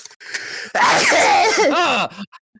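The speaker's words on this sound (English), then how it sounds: "I have to sneeze." A single loud, close sneeze with a sharp inhale before the burst, then a brief trailing breath.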